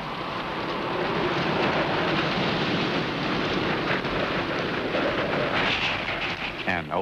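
Heavy rain pours in a steady, dense roar with a low rumble of thunder underneath, continuous and close throughout.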